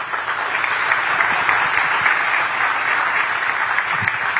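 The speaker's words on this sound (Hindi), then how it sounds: "उनके लिए तालियां ऐसी बजनी चाहिए कि अंतरिक्ष तक आवाज जाए।" Sustained applause from a large crowd at an awards ceremony, a dense, even wash of clapping that holds steady for several seconds without pause.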